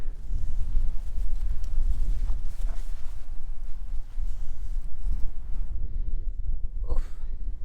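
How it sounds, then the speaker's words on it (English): Cold wind blowing in across open ground near the Pennines, a constant low buffeting roar with microphone rumble throughout, close and steady, with no voices. "There's cold wind blowing in."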